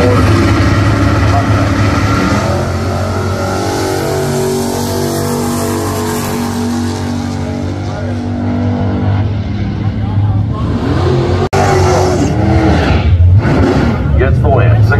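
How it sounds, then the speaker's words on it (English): A 1967 Chevelle and another drag car launch side by side down the strip, a loud sustained engine roar that swells and thins over the run, with a public-address announcer talking over it. "Left lane coming up now, Amy Bullock, Monticello, Florida. 67 Chevelle, dialing in a 650."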